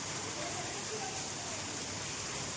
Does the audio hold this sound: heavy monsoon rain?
yes